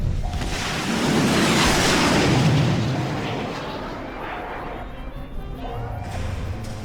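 A failing rocket launch in Fallout: New Vegas, a broad roaring rumble that swells and then slowly subsides, with faint tones and a little background noise.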